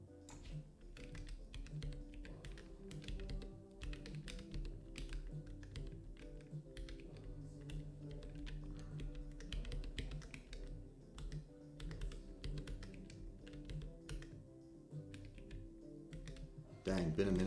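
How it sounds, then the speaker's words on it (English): Rapid, steady typing on a 3D-printed ortholinear keyboard, with crisp, close key taps running continuously over a low background hum. "been a minute since I typed on an ortholinear keyboard"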